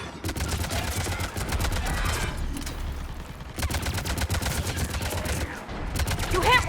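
Sustained rapid gunfire in a Mass Effect 3 combat zone on the Citadel, close and loud, with steady automatic bursts, a short lull midway, then the shooting resumes just as heavily.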